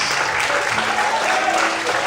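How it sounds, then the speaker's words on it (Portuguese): A church congregation claps during an evening worship service, steady dense clapping that stays loud throughout, with a voice faintly present underneath. "Aplaude o Senhor nessa noite."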